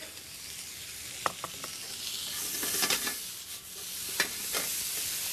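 Spices and tomato sizzle in a pan while Indian food is cooked, with a steady broadband frying hiss and a few sharp spatters and stirring clicks scattered through, close and fairly loud with no talking.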